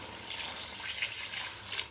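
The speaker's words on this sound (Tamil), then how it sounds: "இப்போ நம்ம தண்ணி சேர்த்துக்கலாம்" Water poured into a pot of cooking mutton curry gives a steady, soft splashing hiss that runs for the whole short stretch, fairly faint and with no voices.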